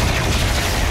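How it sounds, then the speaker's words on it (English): An explosion in the shooter game Doom Eternal, heard as a loud, dense wall of blasting noise that fills the whole short moment without pause. "Oh, I blew him up."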